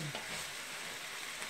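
Chicken sizzles in a hot pan with large onions and garlic for a chicken, rice and veggie stir fry, a steady close crackling hiss with no talk.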